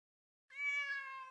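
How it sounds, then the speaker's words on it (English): A single clear cat meow from the Demon Slayer: Kimetsu no Yaiba – The Hinokami Chronicles video game, starting after a short silence and holding steady and close for almost a second. "A cat!"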